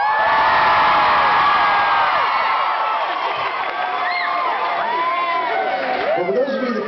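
An audience cheering at a concert, a dense crowd roar with whoops and high yells sustained for several seconds, loud and close throughout.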